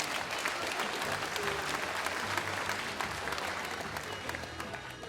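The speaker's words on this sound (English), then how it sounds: "Let's give a round of applause to Kory Shaw." An audience at a Mr BG 2018 pageant applauds a contestant, dense sustained clapping from a crowd filling the room at an even level throughout with some murmuring underneath.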